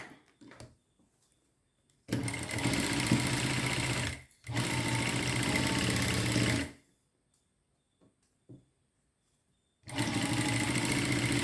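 A sewing machine stitches a cut fabric piece in two long steady whirring runs, then starts a third after a pause, with quiet handling clicks in between.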